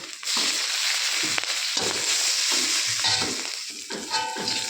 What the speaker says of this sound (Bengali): তেল গরম হয়ে গিয়েছে, তখন আমি দিয়ে দেবো এখানে কিছুটা রাঁধুনি